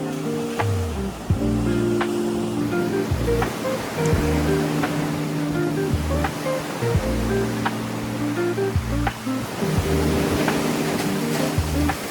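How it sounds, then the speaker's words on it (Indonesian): Steady roar of surf and gusting strong wind on a Yogyakarta beach fills the whole stretch, with low rumbling wave wash and a few faint clicks over the constant noise. "duduk-duduk di pantai sambil nikmatin angin yang super kencang ini"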